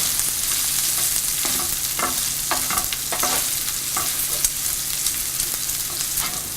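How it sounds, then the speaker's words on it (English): Sweet potato and bacon sizzle steadily in a skillet over a medium flame, a loud constant frying hiss broken by repeated scraping stirs of a utensil. "Now the sweet potato and the bacon cook well."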